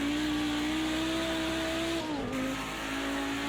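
Audi Group B Quattro race car in Project CARS 2 at Bathurst, a loud, steady engine drone held at high revs, dipping briefly as the pitch drops, then carrying on at a lower tone.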